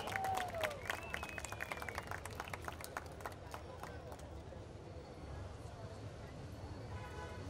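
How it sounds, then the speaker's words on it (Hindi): Applause and scattered clapping from a festival crowd greeting guests on stage at the Malad Festival, fairly faint and steady, with voices and a rising whistle-like tone mixed in. "जोरदार तालियां हो जाएं हमारे सभी गेस्ट के लिए एक बार."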